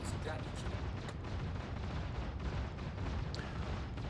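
A distortion cannon fires at a Perseus ship in the Star Citizen space game, heavy booming weapon blasts layered over a continuous rumbling roar, with muffled voice chatter mixed underneath.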